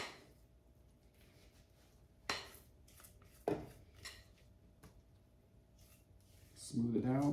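Plant-based pumpkin cranberry quick bread batter is scraped into a silicone loaf pan: sparse soft scrapes and a couple of sharp utensil knocks over a quiet room, ending in a louder rustling scrape, close and otherwise fairly still.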